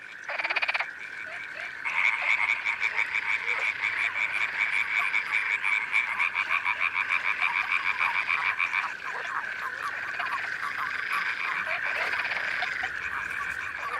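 A dense chorus of frogs and toads croaking continuously in spring, many overlapping rapid calls pulsing steadily and fairly close, with no talking.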